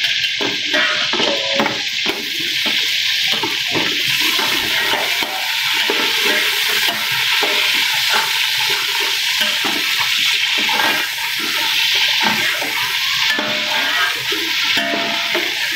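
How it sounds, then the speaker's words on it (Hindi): Continuous close hissing and bubbling of potatoes frying in hot oil, a steady dense sizzle throughout. "यहाँ पे देखें आपको आवाज़ आ रही होगी ऑयल की"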